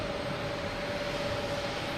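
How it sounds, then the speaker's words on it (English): A JetBlue jet airliner takes off at Boston Logan Airport, bound for LaGuardia, producing a steady, even broadband engine roar that holds at constant loudness throughout with no talking. "Also got a JetBlue taking off"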